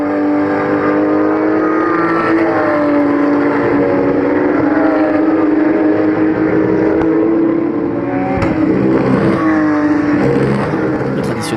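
Porsche race cars at the Nogaro circuit roar as they enter the pit lane, a loud continuous engine drone with shifting pitch as cars pass close by, and a commentator talks over it.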